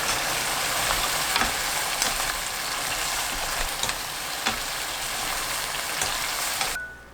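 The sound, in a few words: stir-frying beef brisket with doenjang, chili and scallions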